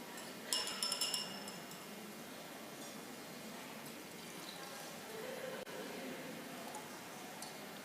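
Honey drink being mixed in a glass, with several brief clinks of spoon against glass early on, then soft stirring and handling sounds under a quiet background.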